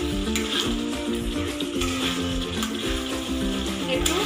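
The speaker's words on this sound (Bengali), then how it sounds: "একটু ভালো করে নাড়াচাড়া করে এবার আমি প্রয়োজন মতো জল দেব" Fried potatoes stirred into sizzling spice masala for a cauliflower and egg curry, giving a steady close sizzle with occasional stirring, over a continuous tonal background.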